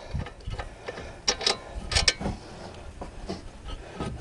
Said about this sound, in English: here's the rear of the caliper and the caliper slider pin bolt right there. I'll loosen that up.